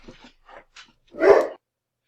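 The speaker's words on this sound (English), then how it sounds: "That was my dog going crazy because another dog's walking down the street" A dog indoors, reacting to another dog passing on the street, gives a few short yips followed by one loud, full bark, close by, with no talking.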